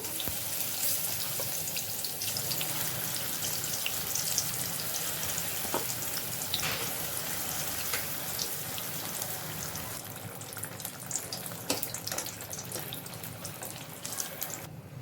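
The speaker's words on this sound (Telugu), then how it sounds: "పిండిలో వేసేసి ఆయిల్లో వేసేస్తాను" Battered evening snacks frying in hot oil: a constant fine bubbling hiss with scattered small pops and crackles, fairly soft and steady throughout, no voices.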